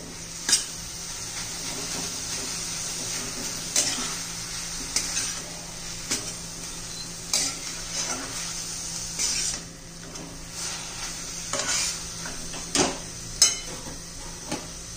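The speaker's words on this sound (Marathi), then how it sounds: "ती चांगली व्यवस्थित मिक्स करून घेऊ." Cooked gram greens being stirred into a pan of garlicky cooked base, soft sizzling under a run of spaced spoon scrapes and knocks against the pan, fairly quiet and without speech.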